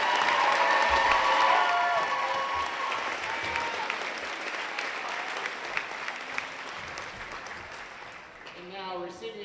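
Gym crowd at a District 9 Class 2A high school volleyball championship applauds the Keystone runners-up with sustained clapping and some cheering that gradually fades, ending with a voice over the thinning applause.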